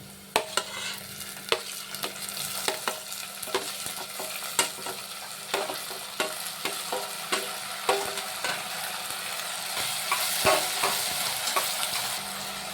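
Onion and tomatoes frying in a pan for a Karnataka-style tomato bath, with a steady close sizzle broken by repeated sharp spatula clicks and scrapes against the pan, no voices.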